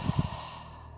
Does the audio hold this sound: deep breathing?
yes